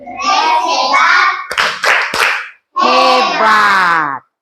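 A group of children gives a short burst of rhythmic hand clapping for a classmate, set between stretches of loud chanted voices.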